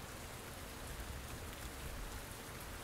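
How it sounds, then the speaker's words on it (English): Heavy rain pouring down in the video game Len's Island, a steady, even wash of rainfall hiss that stays constant throughout with no other sounds. "it's peeing it down with rain"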